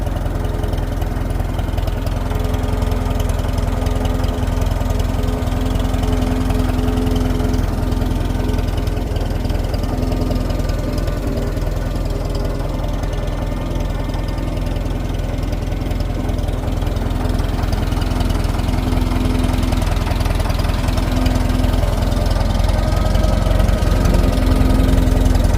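A restored 1958 Farmall 450 tractor idles steadily with a low, even engine rumble, loud and close, running alone without talk the whole time.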